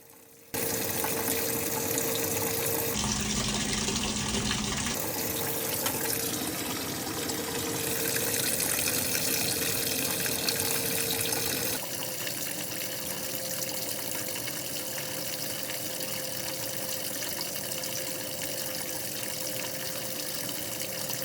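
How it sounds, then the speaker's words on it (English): Whirlpool/Maytag washer that isn't agitating, filling with water in a steady, continuous rushing hiss with a low hum underneath, unbroken for about twenty seconds. "now we're letting water in, and pretty soon you'll see the machine agitating as it should"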